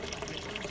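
Water running outdoors on a farm, a steady, soft, close wash of flowing liquid with no voices, filling the short moment evenly.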